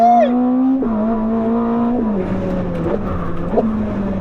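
A 1050 hp Ferrari hybrid sports car on a wet track revs loudly and close, its engine note climbing, dropping with gear changes and climbing again.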